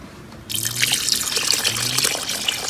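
Water is poured into a pot with a sudden start after a short quiet moment, then a steady splashing, gurgling stream that continues close and fairly loud.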